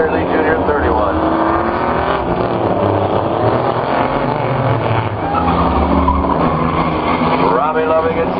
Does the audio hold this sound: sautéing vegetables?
no